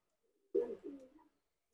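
A Pakistani teddy pigeon gives one short, soft coo in two quick throaty pulses, heard close but quietly against silence.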